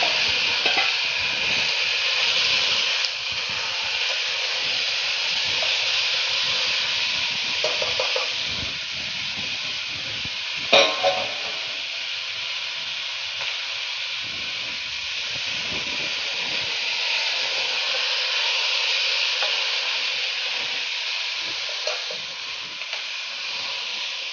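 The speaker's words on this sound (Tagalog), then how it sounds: "At ilalagay ko na yung ating pork belly." Pork belly going into a pot for nilaga brings a continuous hissing sizzle with light stirring scrapes and one sharper clatter midway, steady throughout and without speech.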